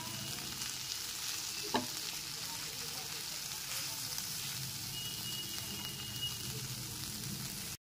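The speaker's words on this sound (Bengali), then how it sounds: "গ্যাসের ফ্লেমটা লো টু মিডিয়ামে রেখে ওটসটা সবজির সাথে খুব ভালো মতো একবার মিশিয়ে নিচ্ছি।" Oats being stirred into vegetables in a pan over a low-to-medium gas flame for vegetarian oats khichdi, giving a steady soft sizzle throughout with one brief scrape of the spoon, and no talking.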